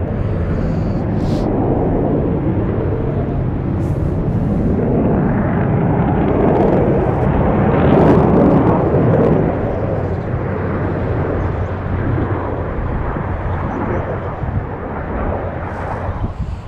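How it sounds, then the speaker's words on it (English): An F-15C fighter jet flies a circuit overhead, producing a loud, steady broadband roar that swells slightly midway and holds for the whole stretch, with some wind buffeting. "So this second jet's just doing a quick circuit."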